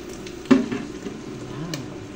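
Gourmet tuyo, dried fish, frying in a little oil in a pan gives a soft, steady sizzle with a sharp crackle near the start and light stirring scrapes.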